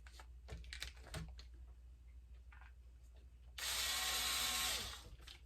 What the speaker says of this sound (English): we're going to close this back up, put the screw back in